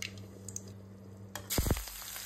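Nigella (black cumin) seeds hit hot oil in a pan while cooking a drumstick leaf dish, a sudden loud sizzle bursting up after a quiet moment and settling into a steady frying hiss.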